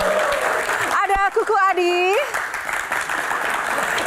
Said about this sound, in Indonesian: Kali ini kita berikan tepuk tangan yang paling meriah untuk Kang Maman Suherman